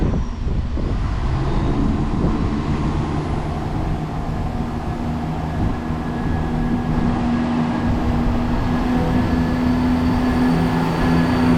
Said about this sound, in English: here is the 1046 East Midlands Railway service to Skegness, 17423, which we're going to take to Aslockton